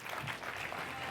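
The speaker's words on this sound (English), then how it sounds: "So everybody give them a round of applause." Audience applause for panelists at a media innovation event, a dense, even wash of clapping from a crowd, steady and moderately loud for its whole brief length.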